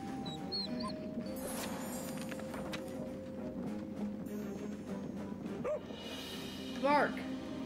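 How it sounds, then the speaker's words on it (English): A cartoon dog barks in Overcooked 2, heard as short yips among busy game music and effects, with a character's voice over it. "Bark."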